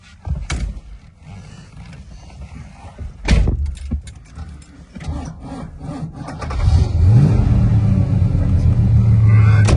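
A 1970 Mercury Cyclone Spoiler with a 429 Cobra Jet Ram Air V8 rumbles close by, its low engine note swelling louder and steadier toward the end with a rising tone, under a few brief knocks and handling noises.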